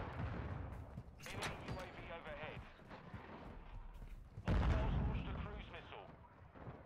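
A cruise missile strike in Modern Warfare 2 lands as a string of deep booms and crackling blasts, with a heavy impact about two-thirds of the way in, all mixed with game chatter and voices.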